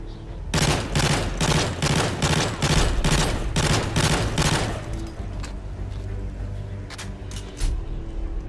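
Type 95 assault rifle firing in Call of Duty MW3 multiplayer: about nine rapid bursts of loud, close gunfire in steady rhythm, then a quieter tail with two more short shots near the end.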